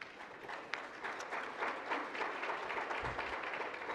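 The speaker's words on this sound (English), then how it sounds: "Give them a round of applause," Soft, fairly distant applause from an audience at a leadership luncheon, a steady wash of clapping at low level with no talk over it.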